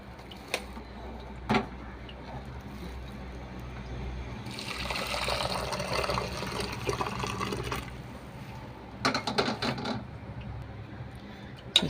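Rasam poured from one cooking vessel into another vessel holding coriander leaves, a steady liquid splashing stream in the middle, flanked by a few sharp clinks of metal pots.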